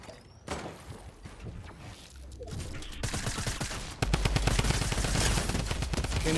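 Rapid bursts of gunfire from the video game Fortnite crackle almost continuously, growing louder and denser toward the end, with close shots layered over a busy background.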